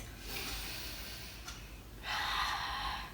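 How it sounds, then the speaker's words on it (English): Breathing during a children's exercise routine: a slow, audible inhale followed by a stronger, airy exhale, close up and alone with no talking. "Inhale and exhale."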